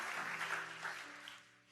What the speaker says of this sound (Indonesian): Tepuk tangan buat Tritunggal.